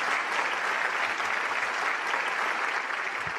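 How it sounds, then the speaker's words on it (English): Continuous applause from a large rally audience thanking the host, a dense even patter of clapping that holds steady for the whole stretch. "let us give a round of applause to thank Dr. Hak Ja-han-moon for hosting today's rally"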